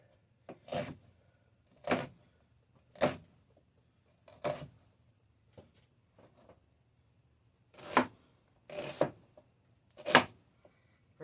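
A large onion with tough skin is cut with a knife on a board, seven separate crunchy strokes at irregular intervals with quiet gaps between them, close and fairly soft.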